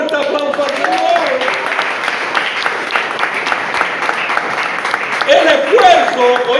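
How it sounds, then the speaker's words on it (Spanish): A church congregation applauds during a sermon, steady clapping from many hands under raised voices and singing-like calls, growing slightly louder toward the end. "Si crees, dale un fuerte aplauso al Señor."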